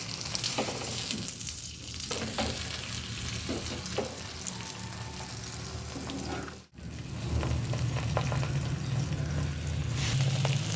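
Aloo paratha sizzling in ghee on a hot pan, a steady close crackle and hiss running nearly the whole time, with a brief dip midway before the frying swells again, and no voices.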